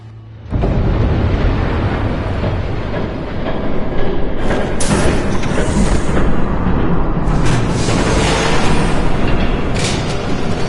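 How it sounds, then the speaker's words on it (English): A train approaches in a video game, a loud continuous heavy rumble and roar that builds and swells, with bursts of hissing noise, and no voices over it. "There's a train coming."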